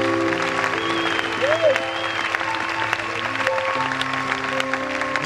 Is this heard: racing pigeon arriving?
no